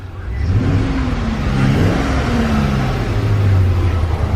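A 2007 Chevy Express 3500 van engine runs steadily at a close, loud idle with a smooth mechanical hum and no lifter ticking, the pitch rising slightly midway.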